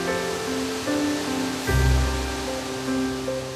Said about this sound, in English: At 75 feet tall, it's the 8th largest waterfall in the state in volume of water.